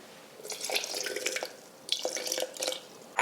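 Water poured in two short bursts into a jar holding sourdough starter, a close, trickling splash with drips between pours and a brief pause in the middle.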